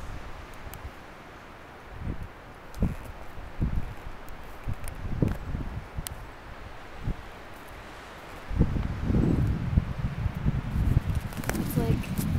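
Wind gusts across the rim of the Grand Canyon, buffeting the microphone in uneven rushes that grow stronger toward the end, with people talking faintly in between.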